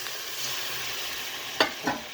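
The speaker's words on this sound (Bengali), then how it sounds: "দেখুন বন্ধুরা, মশলা কষা হয়ে গেছে, আমি জল ঢেলে দিলাম।" Water poured into a pan of cooked spice paste sets off a brief steady sizzle that stays fairly even, then two sharp hissing bursts arrive close together near the end.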